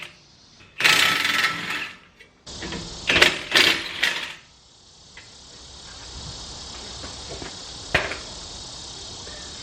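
Wrench work on the lower bolt of a BMW E34 shock absorber, with bursts of ratcheting and clicking metal at close range in a shop, then quieter scattered clicks and a sharp knock.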